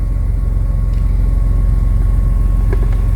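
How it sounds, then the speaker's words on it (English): A BMW M3 with running issues idles steadily up close, a loud, even low engine rumble with a slight rhythmic pulse and no talk. "the car does sound really well"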